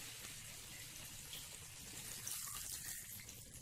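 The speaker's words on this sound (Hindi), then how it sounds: "हम यहाँ पे 1 ग्लास पानी डालेंगे।" A glass of water pours into thick chicken do pyaza gravy in a pan, a faint continuous trickling pour heard alone without talk.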